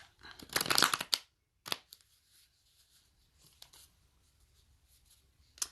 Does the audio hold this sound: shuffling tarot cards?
yes